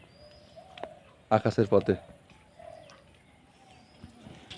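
Pigeons at a rooftop pigeon house give a burst of about five loud, rhythmic coos close by, with someone talking before and after.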